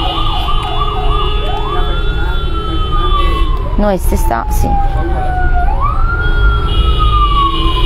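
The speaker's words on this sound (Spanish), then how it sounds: "esta es la ambulancia que contratamos para este live" An ambulance siren wails loudly through repeated rising and falling sweeps as it passes close by, with a person speaking briefly over it partway through.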